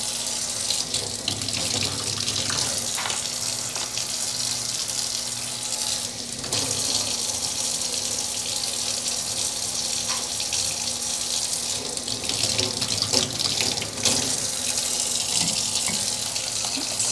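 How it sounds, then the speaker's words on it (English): Enamel pieces are rinsed under running water at a sink, giving a steady, continuous rush of tap water that holds without a break at moderate loudness, with small splashes and clinks now and then. "let's rinse them with some distilled"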